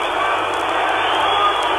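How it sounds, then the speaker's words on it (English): Football crowd at an Arsenal versus Swindon Town match, whistling loudly and continuously in a dense, shrill mass of sound that fills the stadium, with a commentator talking over it. "the crowd whistling for time."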